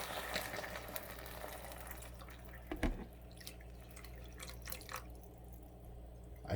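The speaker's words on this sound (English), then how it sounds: "So we're gonna pour the water in." Water is poured into a pot to make seaweed soup, heard as a quiet, steady trickling and dripping with a brief clunk partway through.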